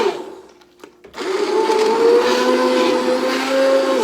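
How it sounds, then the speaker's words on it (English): An immersion emulsifying blender whirs in broccoli-cheddar soup, starting after a brief quiet handling moment and then holding a loud, steady motor whine with a slight pitch shift, close and alone. "one of these emulsifying blenders right here. Just going to go down in."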